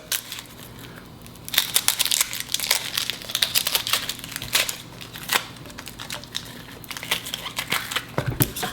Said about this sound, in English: Fresh onions are difficult to peel.